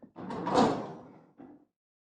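An indoor door swings open with a scraping, rumbling movement followed by a brief softer thud, heard close with no one talking.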